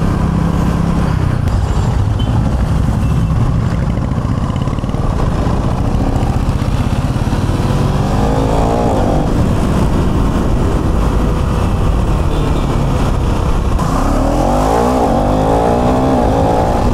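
KTM Duke 390 motorcycle on the road, a loud continuous engine drone with rising revs and acceleration during the ride, wind rushing throughout.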